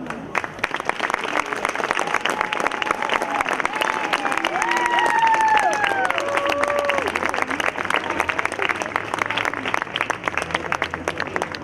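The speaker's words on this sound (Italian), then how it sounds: "Adesso un applauso in anticipo," Concert audience applauds in a dense, even wave of clapping that lasts throughout, with scattered voices and a whistle-like cheer rising in the middle.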